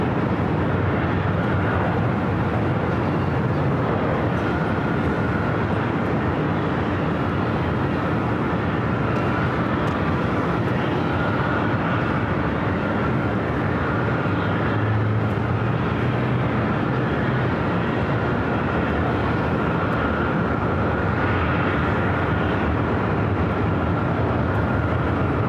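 Air China Boeing 777-300ER airliner at LAX airport, heard as a steady, loud jet roar that holds for the whole stretch without fading, with no talk over it.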